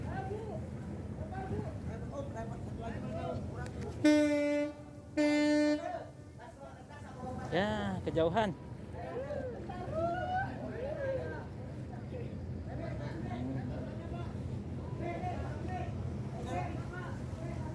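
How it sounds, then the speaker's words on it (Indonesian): A ferry horn sounds at a Bali port in two loud, deep blasts, each about a second long, with people talking before and after. "Klakson kapalnya udah bunyi, sepertinya kapal udah mau jalan."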